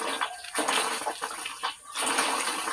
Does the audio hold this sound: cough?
no